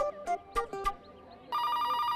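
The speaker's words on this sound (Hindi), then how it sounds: "अबे अभी किसका फोन बज रहा है?" A telephone starts ringing partway through, a bright, steady electronic ring that follows a few brief knocks and voice-like sounds in an indoor comedy scene.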